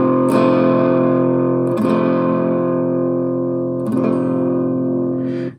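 Electric guitar through a clean boost pedal with both sets of clipping diodes in, loud strummed chords hit three or four times and left to ring with a mildly driven tone, alone and close.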